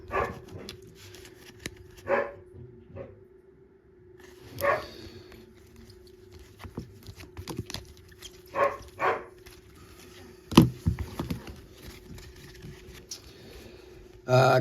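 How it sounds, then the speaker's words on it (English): A dog barks in short scattered bursts and whines now and then, close by in an indoor room during a baseball card break, with a person's voice talking faintly underneath. "Again, I apologize for the dog, guys."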